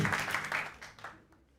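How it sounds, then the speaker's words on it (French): An audience claps for a singer before a song, a short burst of clapping that starts strong and quickly thins out, fading to near quiet within a second or so. "Alors on applaudit d'abord"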